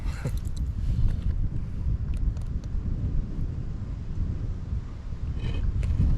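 Gusty wind sweeps over a river during solo kayak fishing on the Buffalo National River, a continuous low rumbling buffet against the microphone with a few faint clicks and knocks, no talking.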